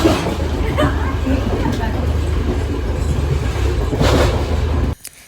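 A train runs along the rails on a trip to Jaffna, heard from inside the carriage as a steady loud rumble with faint clatter, while a person talks over it before the sound cuts off abruptly.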